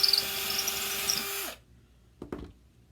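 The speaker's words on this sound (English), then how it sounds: "do I have to drill on the other side too?" A small power drill bores a hole during a home craft project, whining steadily for about a second and a half before cutting off, followed by a couple of faint handling clunks.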